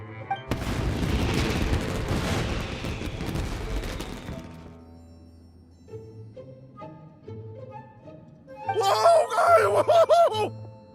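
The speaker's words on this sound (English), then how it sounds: "Yoimiya, this is turning into a bit of a fireworks display." Fireworks burst in Genshin Impact, a loud cluster of booms and crackles in the opening seconds that fades out, followed by quieter game music with a brief bright flourish near the end.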